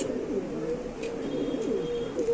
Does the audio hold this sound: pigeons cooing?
yes